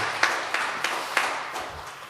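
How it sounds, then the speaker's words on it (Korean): A church congregation gives a warm round of applause to welcome new members, a diffuse wash of clapping with a few sharper claps standing out, fading gradually. "따뜻한 박수로 환영해 주시기 바랍니다"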